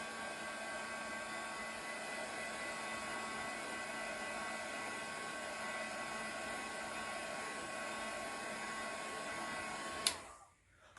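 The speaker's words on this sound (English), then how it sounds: "And then let me hit this with the dryer." A hair dryer blows steadily on a snowman craft decoration, a constant whirring hiss with a faint motor whine, moderately quiet and close, then abruptly switching off near the end.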